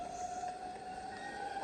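A metro train runs through the Backrooms video game with a steady rumbling rush and a sustained high wheel whine held across the whole stretch, fairly quiet and without speech.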